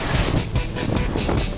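Strong 27-knot wind buffets a Figaro racing sailboat at sea during a transatlantic race, a steady loud roar with gusting surges and rushing water, no talk.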